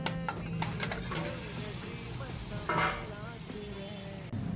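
Chicken frying with garam masala and ginger-garlic paste: a moderate sizzle runs beneath clinks and scrapes of stirring, with a brief louder burst of frying near the end.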